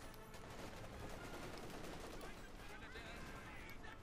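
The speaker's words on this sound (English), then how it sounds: "The folks are supported by the 5th Cal machine gun" Rapid .50 cal machine gun fire in the video game Company of Heroes 2, a dense continuous rattle of bursts mixed with other battle noise, faint and distant, with a commentator's voice talking over it.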